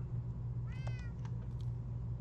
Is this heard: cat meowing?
yes